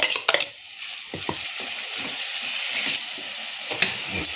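Finely chopped tomatoes sizzle and fry in a pan with turmeric, making a steady broadband hiss, broken by a few clinks and scrapes of stirring near the start and again toward the end.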